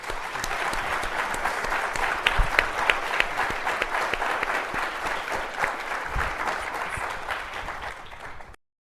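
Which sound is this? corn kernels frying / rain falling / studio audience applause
studio audience applause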